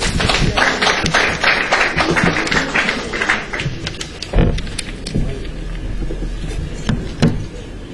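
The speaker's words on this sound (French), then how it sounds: "Merci d'applaudir, s'il vous plaît." Audience applause at a press gathering, loud, close, uneven clapping with sharp individual claps standing out, dense at first and then thinning into scattered hits.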